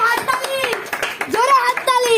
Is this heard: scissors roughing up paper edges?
no